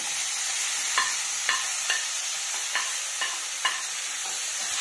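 Onion, green chilli and green peas frying in oil for a mushroom pepper fry, a steady bright sizzle punctuated by about eight sharp spatula taps and stirs against the pan.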